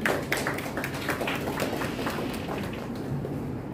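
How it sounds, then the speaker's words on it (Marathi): A crowd at an Indian award ceremony applauds to welcome the chief guest, a steady patter of many hands clapping at moderate loudness that continues evenly throughout. "आजच्या कार्यक्रमाचे अध्यक्ष आलेले टाळ्या वाजून आपण यांचं स्वागत करूया"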